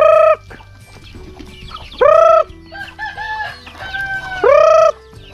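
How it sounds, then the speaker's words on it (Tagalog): Loud crowing bursts from a rooster ring out three times, with softer clucking and chicken calls chattering between them nearby. "Dami ko na palang manok mga birds oh"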